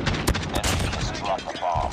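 Gunfire in the Call of Duty: Mobile ranked Search and Destroy match on the Standoff map, heard as sharp, close shots and short bursts mixed with game voice callouts.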